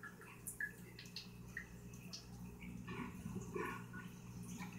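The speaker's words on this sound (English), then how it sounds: "So I'm just gonna start pouring it in." Alcohol and water being poured into a glass jar for a mushroom tincture, a soft trickling and gurgling liquid flow with faint drips, close and quiet, no talk.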